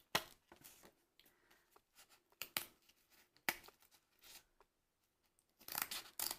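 Cheap craft scissors snip through Thanksgiving banner fabric in a series of short, crisp cuts with pauses between them, close up and fairly quiet, with a longer burst of cutting at the end.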